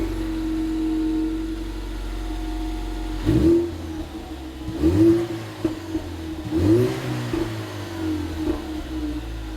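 A 2015-2018 Ford Mustang EcoBoost with an MRT high-flow catted turbo-back exhaust idles with a steady drone, then revs sharply three times, each rise and fall close and clear with no talking.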